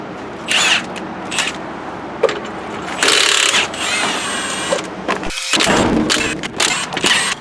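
Milwaukee impact wrench loosening 21 mm lug nuts on a 2011 Hyundai Elantra Touring: several loud, close bursts of rattling hammering whir, separated by brief pauses and metallic clanks.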